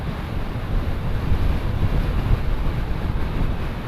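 Loud, continuous rush of ocean waves with heavy wind buffeting the microphone, a steady roar with surges throughout.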